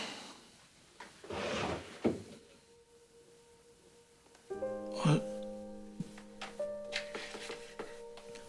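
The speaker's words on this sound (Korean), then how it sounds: "콘솔 서랍 열어봐." A console drawer slides open indoors, with a soft scraping rush, a small knock, then later a louder thud and rattle. A steady electronic hum runs underneath and no one speaks.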